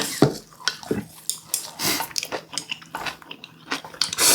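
Eating spicy stir-fried octopus (jjukkumi) with angelica leaves, close crunchy bites and chewing with light clinks of cutlery and dishes throughout.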